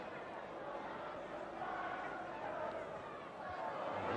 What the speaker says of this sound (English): Crowd encouraging him to drive in and go on his own.